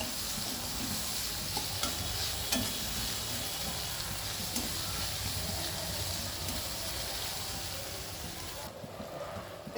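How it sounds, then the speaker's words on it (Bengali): Garlic and onion frying in a pan for a fish-head and vegetable dish, a constant soft hissing sizzle with light stirring, moderately quiet and close, ending abruptly, no talk. "একটু রসুন, পেঁয়াজ রসুন এগুলো ভালো করে আমি আগে ভেজে নেব।"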